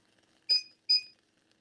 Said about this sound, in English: Put the timer on it.